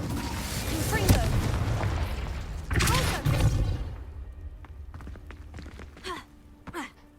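Explosive Confringo spell cast in the video game Hogwarts Legacy, a booming magical blast followed by rumbling game sound effects and a few sharper hits.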